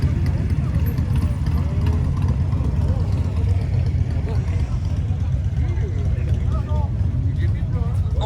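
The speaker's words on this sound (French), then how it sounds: "la moto de Monsieur le maire" A motorcycle belonging to a town mayor idles steadily during a group ride outing near Maroeuil, a constant low engine rumble running through the whole stretch with people talking over it.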